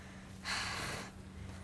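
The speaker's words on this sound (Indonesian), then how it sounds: "Mana pada ngos-ngosan lagi lu?" A single heavy, breathy exhale or gasp from a tired person sitting down to rest, close and moderately loud over a low background hum.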